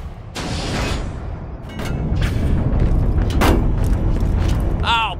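Ships blowing up in Borderlands: The Pre-Sequel, a rumbling roar of heavy booms and creaking metallic debris that swells and stays loud, ending with a short high whine.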